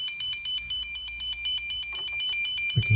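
Cable tracer probe held against an electrical wire, picking up a steady beeping signal tone that pulses rapidly and evenly over low background hum, ending in a brief handling knock.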